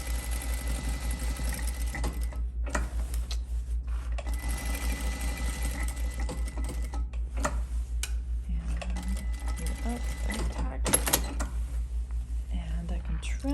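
A sewing machine stitches the cuff of a tote bag with a steady, loud mechanical hum and rapid needle clatter throughout, while a person talks quietly over it.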